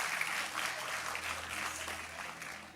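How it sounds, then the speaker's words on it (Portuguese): A church congregation applauds, a fairly quiet but dense, even wash of clapping heard from a distance that holds steady and tapers slightly at the end. "Uma salva de palmas a Jesus pela vida deles."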